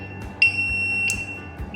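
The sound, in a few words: buzzer triggered by Arduino flame sensor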